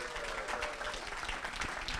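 An audience at a lake association's annual meeting applauds a newly elected president, a brief, steady burst of clapping heard at moderate distance.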